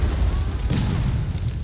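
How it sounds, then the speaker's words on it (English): A heavy artillery blast in a War of Rights battle, a shell striking a cannon caisson and setting off its contents: a deep, rumbling boom with a sharp burst partway through, loud and sustained over low battlefield noise. "Possibly have hit a cannon caisson and set off whatever was inside it."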